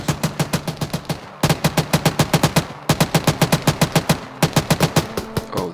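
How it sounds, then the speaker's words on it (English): Automatic gunfire in the video game ArmA comes as four long, loud bursts of rapid, evenly spaced shots, each rattling for over a second with short gaps between. "I'm not worried about that shooting."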